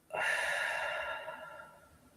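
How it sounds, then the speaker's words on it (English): One slow, close, airy breath out lasting about two seconds and fading gradually, with no talking over it. "And again, slowly in and a longer breath out."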